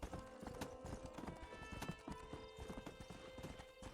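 Horse hooves clip-clop steadily while riding in Red Dead Redemption. The hoofbeats are quiet and rhythmic under a light game music and ambience bed.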